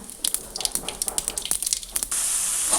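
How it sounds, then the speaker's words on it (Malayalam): Mustard seeds crackle and pop in hot coconut oil in quick, sharp bursts, then chopped cabbage drops in and a loud, continuous sizzling hiss takes over, close and bright. "കടുക് പൊട്ടി വന്നു കഴിഞ്ഞാൽ കഷ്ണം വെട്ടിയ കേബേജ് ഇട്ട് കൊടുക്കുക"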